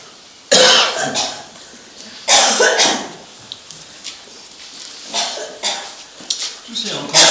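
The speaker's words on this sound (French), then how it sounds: "Toussez, Majesté." Several loud, harsh coughs close by in separate bursts with short pauses between them.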